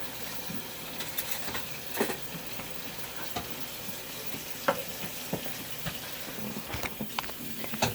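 Peanut butter being stirred as it melts in a pot with vanilla, for lactation cookie dough, making soft scraping and sticky stirring sounds with faint sizzling underneath and occasional spoon knocks, close and fairly quiet with no talk.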